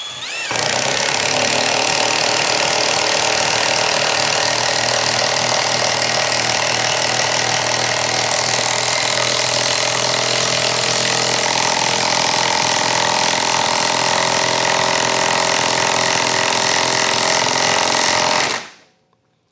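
A Kobalt 24V Max 1/2-inch cordless impact wrench drives a bolt in one long, loud, continuous hammering burst lasting about seventeen seconds, then stops abruptly.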